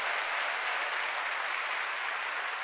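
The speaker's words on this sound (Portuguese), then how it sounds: "Então dê um aplauso como deve ser dado" A church congregation at an evening Baptist service breaks into sustained applause, a dense, even roar of many hands clapping with no talking heard.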